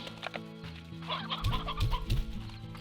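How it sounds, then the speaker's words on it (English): Roosters cluck in the Slime Rancher video game, several quick bursts close by over a steady ambient music bed, getting busier toward the end. "There are a few roosters in here."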